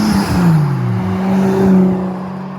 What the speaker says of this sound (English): Toyota Supra coming in now